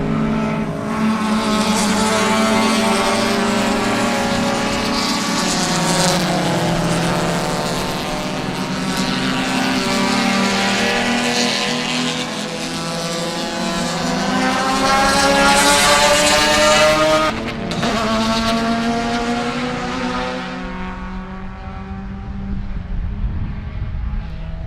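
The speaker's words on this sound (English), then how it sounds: "Here they come. So get ready for some great racing action." Race cars of the production and touring classes roar past on the track at Sebring, with engine pitch sweeping up and down as each one nears and fades, in a loud, continuous pass-by wash without speech.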